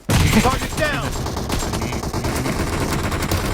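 Rapid gunfire in the shooter game PUBG Mobile, a loud burst of shots at the start followed by continuous busy game noise and shooting.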